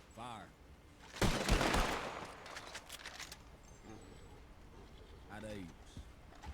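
A firing squad's rifle volley in a Western video game bursts out loudly, followed by scattered fainter shots and echoes, with voices talking before and after.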